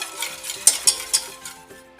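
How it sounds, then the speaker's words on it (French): Soft scraping and swishing of a spoon stirring pastry cream as it thickens in a saucepan, with a few sharper clinks against the metal, steady and close. "Puis on mélange jusqu'à ce que notre crème épaississe."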